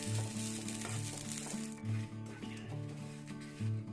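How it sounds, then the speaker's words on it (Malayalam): Grated coconut roasts in a pan until brown for a Chettinad chicken curry, giving a steady low sizzle with a persistent tonal hum and occasional scraping, close and moderately loud. "ബ്രൗൺ കളർ ആവുന്നത് വരെ ഒന്ന് വറുത്തെടുക്കാം"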